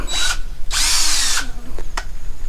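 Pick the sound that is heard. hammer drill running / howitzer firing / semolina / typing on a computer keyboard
hammer drill running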